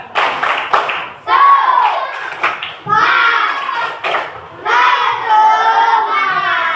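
Schoolchildren in an Indonesian classroom do a rhythmic spirit clap, with bursts of quick patterned hand claps between loud chanting voices, close and lively.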